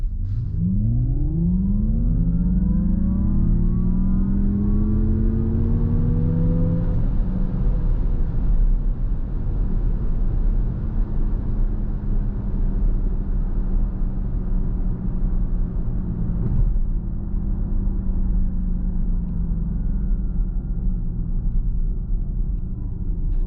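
A 2024 Acura ZDX Type S electric SUV pulls away hard from a complete stop in sport mode, its synthetic drive sound sweeping upward in pitch over a steady loud road rumble, then settling into a sustained hum at speed.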